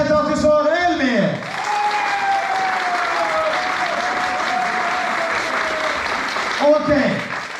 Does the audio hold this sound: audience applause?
yes